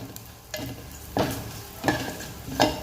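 Onions with turmeric and chilli powder are stirred in a hot pan, soft sizzling broken by four scraping strokes of the spoon at a steady pace, close and alone.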